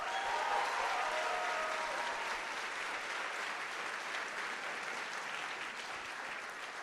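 A crowd at a youth TEDx event applauds steadily for several seconds, a dense wash of clapping that stays fairly even and fades slightly toward the end.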